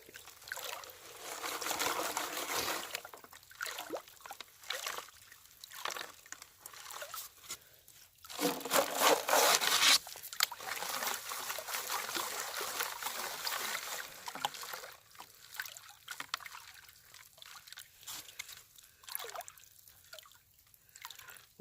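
A small creek trickles and drips nearby during gold sampling in the field, a steady soft watery babble mixed with occasional crunching gravel and handling noises, a brief louder splashy stretch midway.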